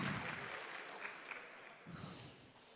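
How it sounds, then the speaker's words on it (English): A conference crowd gives a round of applause for the organizer, quiet and distant-sounding clapping that carries evenly through the moment and fades slightly at the end. "can we have one big round of applause for this excellent person who organized this conference with his team?"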